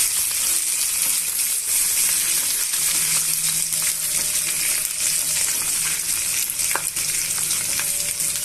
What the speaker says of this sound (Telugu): కడిగి పెట్టుకున్న కరివేపాకును కూడా యాడ్ చేసుకోవాలి యాడ్ చేసుకున్న తర్వాత ఇవన్నీ బాగా మిక్స్ చేసుకొని వేయించేసుకుందామండి